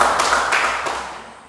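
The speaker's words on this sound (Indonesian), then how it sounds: "Mari kita tepuk tangan dulu." A short burst of hand clapping from a small group in a classroom, a few quick claps fading within a second or two.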